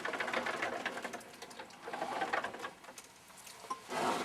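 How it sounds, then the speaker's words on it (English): A wooden quilting frame with a pantograph-style carriage slides back and forth, giving a steady run of rolling, rattling mechanical motion with uneven surges, fairly close and without voices. "this carriage moves back and forth, and then the longitudinal carriage also moves"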